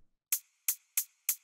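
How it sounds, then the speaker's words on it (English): Four crisp hi-hat hits from a techno sample ring out in a quick, slightly uneven pattern, bright and short with a small metallic tail, alone and fairly quiet. "Now let's put the hi-hat so that we can balance them together."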